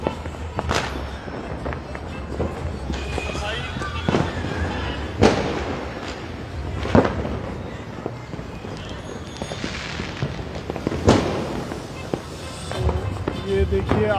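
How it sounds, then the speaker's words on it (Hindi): Diwali fireworks and firecrackers in Una burst repeatedly at irregular intervals, some sharp and loud, over a constant crackling background. "देखिए आसमान पूरा जो है वो पटाखों से गूंज उठा है"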